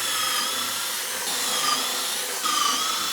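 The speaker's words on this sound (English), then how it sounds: "it's time to pre-drill quite a lot of holes, honestly, in this." A power drill pre-drilling holes in a workshop cabinet whines at a steady high pitch, close and loud, with slight shifts in tone as it bites into material.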